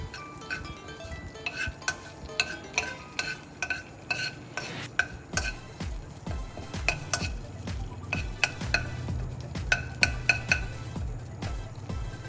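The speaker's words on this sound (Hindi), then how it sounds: "इसको थोड़ा सा आप ऑयल में फ्राई करेंगे" Stirring in a hot pan as an ingredient fries in oil for Chicken 65, with steady clinks and scrapes of utensil against metal over a low sizzle, close and moderately loud throughout.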